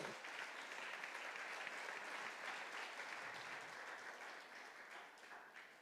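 A church congregation applauds steadily in a dense, even wash of clapping that holds for several seconds and tapers slightly at the close, heard at a fairly low level with no voices on top.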